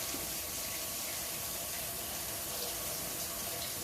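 Hot water runs steadily from a kitchen tap into a cup, a soft continuous hiss and splash with no talking.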